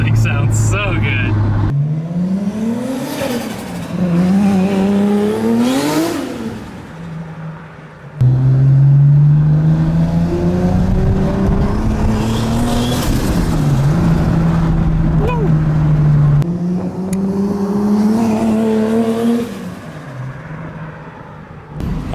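A widebody Toyota Supra with an HKS 3.4L engine built by Smokey Nagata revs hard through repeated rising and falling sweeps, loud and close, while people talk excitedly over it.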